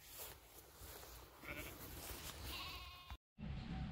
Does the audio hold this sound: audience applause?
no